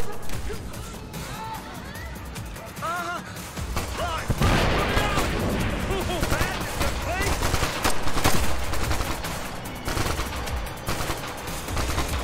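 Bursts of automatic gunfire and scattered shots ring out in the Ghost Recon Future Soldier campaign, dense and continuous with sharp cracks and heavier blasts, while voices talk faintly underneath.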